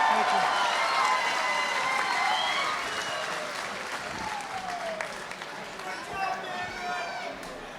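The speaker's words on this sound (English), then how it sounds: "Everybody, let me get a big round of applause for David Maggio." A fight-night crowd bursts into sustained applause and cheering, a dense wash of clapping hands with shouts and whistles mixed in, steady throughout and easing slightly partway.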